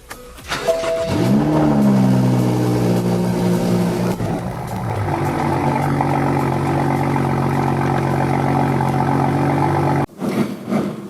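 A BMW F80 M3 engine revs hard and loud while driving, a sustained rising and falling roar throughout with a brief cut near the end, no talking.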